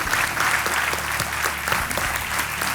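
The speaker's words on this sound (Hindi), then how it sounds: "आइए तालियों के साथ आपका स्वागत।" Loud, steady applause from a game show studio audience fills the whole stretch, dense clapping with no pauses.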